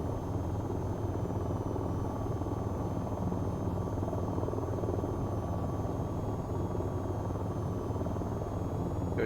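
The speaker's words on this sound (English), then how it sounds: "I don't think the locals are going to be happy with the low flying helicopter." Low-flying helicopter in the VTOL VR flight game, a steady, loud rotor and engine drone that fills the whole stretch without a break.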